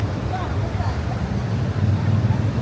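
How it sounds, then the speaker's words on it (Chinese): A fast-flowing river in the highland town of Kangding rushes as a steady broad roar, close and loud, mixed with wind buffeting the microphone, no clear voices. "还有这个水流湍急的声音啊"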